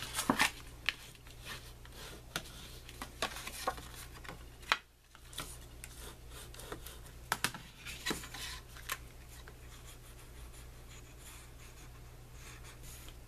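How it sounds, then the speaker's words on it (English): Soft paper creasing and rubbing as patterned scrapbook paper is folded along score marks for a mini album, a quiet series of scratchy strokes and light taps with no talking. "let me just go through and fold them on the score marks"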